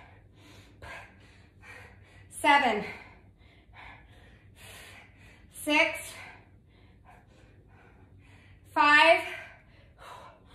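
Heavy, labored breathing during a weighted full-body workout of regular squats: three loud gasping inhales rise over steady breathing while a nearby voice counts down the reps.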